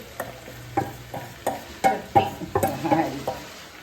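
Prawns hit a hot pan for a roast and sizzle under repeated stirring, with uneven scrapes and knocks of the spoon against the pan coming every fraction of a second, close and fairly loud.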